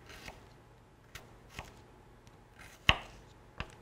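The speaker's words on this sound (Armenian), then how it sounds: "եւ հաջորդ կտորն էլ կտրատենք ու անցնենք առաջ" A knife chops food on a cutting board in a quiet home kitchen. A handful of sparse, irregular taps sound close by, with one sharper knock near the end.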